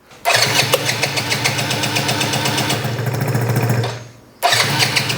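A Yamaha BWS 50 scooter engine cranks on its loud starter motor and catches, holding a steady buzzing idle close by, then drops off briefly before restarting abruptly.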